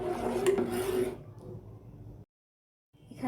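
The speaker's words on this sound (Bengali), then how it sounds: "এখন আমি নাড়াচাড়া করতে থাকবো।" Milk and sugar are stirred in a pot for firni, making a close, soft scraping and rasping of the spoon against the pan that fades out, goes silent, then resumes briefly.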